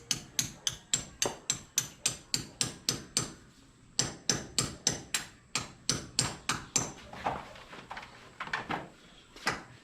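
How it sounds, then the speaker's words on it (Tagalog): A hammer strikes repeatedly while a stainless steel window grill is being installed, sharp metallic blows in a steady rapid series with brief pauses between runs, close and clear. "Yung martilyo."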